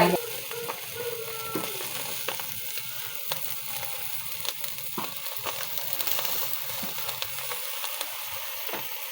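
Food grilling over heat after a soy sauce and vinegar baste, a steady close sizzle with scattered sharp crackles and pops throughout.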